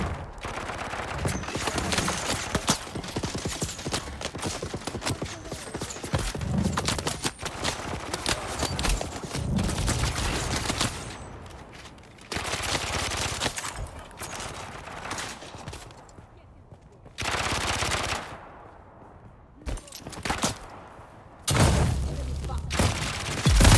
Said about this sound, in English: Who's shooting at me? Oh, they're shooting me from the other side.